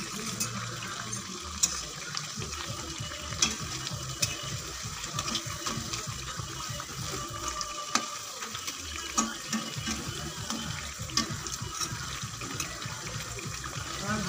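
Potato fritters (aloo bora) coated in batter with rice flour frying in hot oil, a steady, dense crackling sizzle that continues without a break throughout, with no talking over it.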